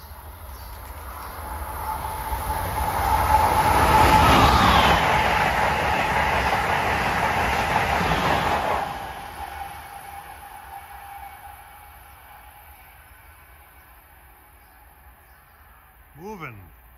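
Amtrak Acela high-speed train, Washington to Boston service, rushing past on the shoreline route: a rising roar that peaks and holds for several seconds, then fades into the distance, with a short horn-like whine near the end.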